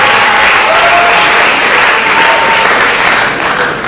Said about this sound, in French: Est-ce qu'on peut applaudir pour le collège Boboto?